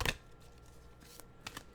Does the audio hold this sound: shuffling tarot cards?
yes